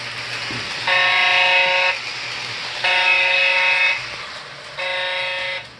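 A model train locomotive on a main-line layout sounds three loud electronic horn blasts, each lasting about a second, with short pauses between them over a low, steady hum.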